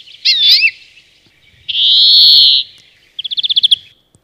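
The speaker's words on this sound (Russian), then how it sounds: "Эта птичка называется зеленушка." A greenfinch sings up close and loud: a twittering warble, then a long buzzing wheeze, then a quick series of rapid chirps, alone with no talking.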